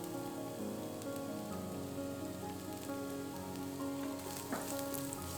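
Minced garlic sizzles in hot peanut or olive oil in an Instant Pot, giving a continuous, even crackle and hiss with occasional sharper pops, close and alone with no talk.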